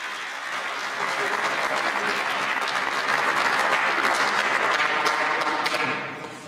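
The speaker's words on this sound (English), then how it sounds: "So thank you very much, and a big applause for everybody." A conference audience at Web Camp breaks into sustained applause. The clapping swells quickly, holds dense and loud for several seconds, then tapers off.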